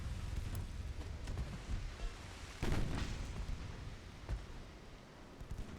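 Warship guns from the naval game Ultimate Admiral: Dreadnoughts, with the 1920 battleship USS South Dakota, fire a broadside as repeated booming blasts over a rumbling, rain-like wash of distant gunfire.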